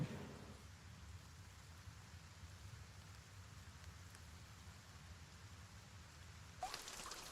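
Rainfall in the Gray Zone Warfare video game, a faint, steady hiss of drops on surfaces continuing throughout, with a slight swell at the very end.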